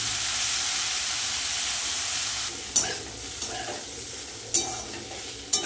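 Cut brinjal and two split green chillies frying in a pan, a steady close hiss and sizzle with a few sharp spits and pops of oil breaking through.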